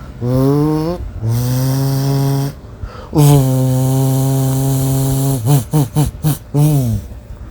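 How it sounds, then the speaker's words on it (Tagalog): A chainsaw engine revs loudly in long sustained bursts, then sputters through a series of quick short revs near the end. "Chainsaw pala yan"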